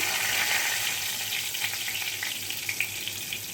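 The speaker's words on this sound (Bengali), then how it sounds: "তেজপাতাটা দিয়ে দিচ্ছি" A bay leaf drops into hot oil already crackling with whole cumin seeds for Bengali raw banana kofta, giving a loud, dense, steady sizzle that fills the whole stretch with faint spattering pops and no voices.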